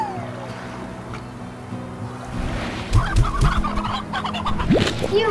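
A chicken in the Slime Rancher video game clucks in short, loud bursts with a rising squawk near the end, over a steady game background hum.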